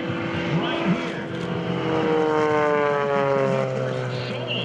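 An Alon Extra 300 aerobatic airplane flies at the 2012 Blue Angels Homecoming Airshow at Naval Air Station Pensacola. Its engine gives a loud, steady propeller drone whose pitch bends and shifts as it maneuvers, with a voice faintly audible over it.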